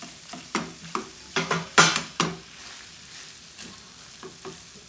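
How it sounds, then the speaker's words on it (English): Pieces of turkey tikka masala meat are stirred through sauce in a pan, with a series of distinct scraping, squelching stir strokes over a soft sizzle, close and clear with no talk. "And just stir that to coat all of the meat with a lovely"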